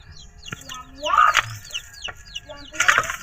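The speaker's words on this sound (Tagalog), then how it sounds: "4 na mga sisiw guys." Four week-old chicks cheep in quick, high, falling peeps, scattered across the moment and clustering into a louder burst near the end, fairly close by.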